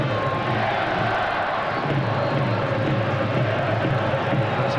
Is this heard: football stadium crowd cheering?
yes